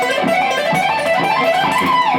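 Fast electric guitar lick in a latter-era style, a dense, distorted run of quick notes played continuously and loud throughout, with no talking over it.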